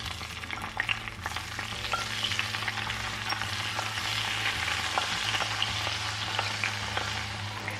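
Ice being whisked into hot brown butter for bourbon cookies, producing a loud, dense, continuous crackling sizzle close up, with fine rapid pops and a low steady hum underneath.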